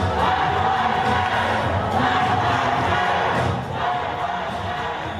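A large crowd chants loudly and steadily at a George Bush campaign event, a dense roar of many voices carrying on without a break throughout.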